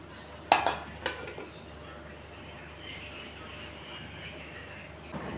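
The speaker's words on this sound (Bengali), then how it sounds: "ঢাকনার উপরে শিল দিয়ে দিলাম" A heavy grinding stone set down on a pot lid covering hilsa fish cooking in hot water gives a couple of sharp metallic clanks near the start, followed by a low, steady background hum.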